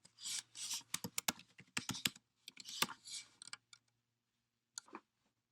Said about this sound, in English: just put in my username and password really